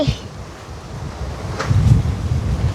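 Storm wind roaring around a house during a November 2025 tempest, a steady broadband rush that swells louder toward the end, with no voices over it.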